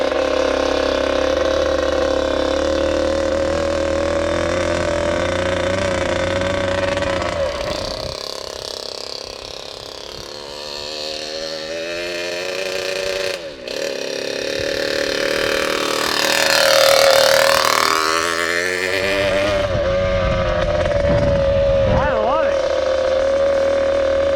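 A Harley Davidson motorcycle swapped to a two-stroke engine revs up and settles back repeatedly, loud and close, with rising and falling pitch sweeps and people talking at points.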